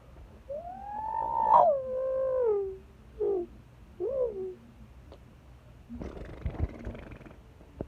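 A voice mimics a 6.7 diesel truck engine doing a flyby, rising into a loud whining rev that bends down and trails off, then short sputtering bursts and a rough rattling tail.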